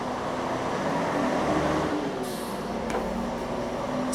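Road traffic passing outside a room, a steady low roadway rumble with a heavier vehicle swelling by and a brief hiss like an air brake, moderately distant and continuous, with no talking.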